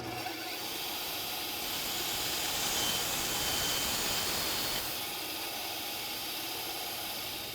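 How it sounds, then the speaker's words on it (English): Bandsaw slicing through a plastic cake pillar: a steady, dense, hissing whine that holds for several seconds, then eases slightly toward the end. "We use a bandsaw to cut through our plastic."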